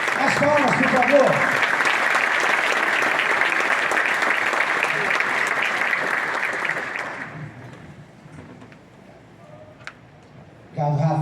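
An innovation week audience claps loudly for a speaker taking the stage, the dense applause holding for several seconds before fading into quiet room sound, then a brief voice.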